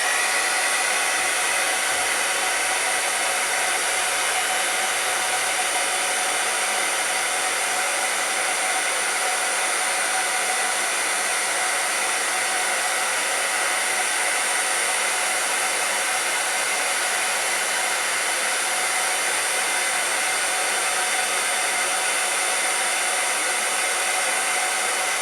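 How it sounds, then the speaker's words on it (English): A heat embossing tool melts embossing powder on an oval stamped on paper, blowing a steady, loud, hair-dryer-like roar that runs unbroken and evenly throughout, with no talk. "now we will emboss the oval with your heat tool"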